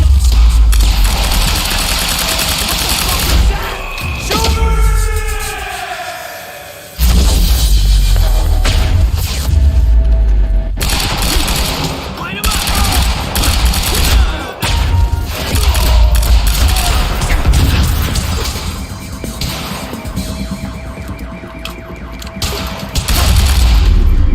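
Heavy gunfire in a firefight from the video game Quantum Break: loud bursts of automatic fire, thumps and crashes. It runs continuously for most of the stretch, with a short lull, then resumes with dense overlapping shots.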